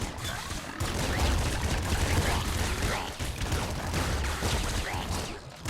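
Rapid gunfire in the video game Nuclear Throne, a dense continuous burst of shots with mechanical clatter running nearly the whole time, loud and close with a short break midway.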